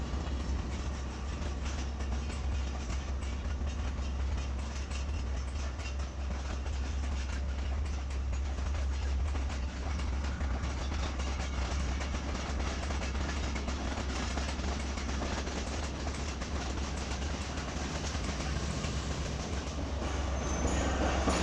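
The Shalimar Express, 38 Down, pulls out of Lahore in Pakistan with a continuous heavy rumble of rolling rail cars and faint clickety-clack that stays steady and loud throughout.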